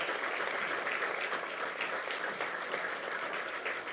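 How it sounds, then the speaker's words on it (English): Steady, dense applause from an audience at a closing reception for a military medical mission, honoring service members' families; continuous and fairly loud, with no talk over it. "Please, let us applaud the families of all our men and women in uniform."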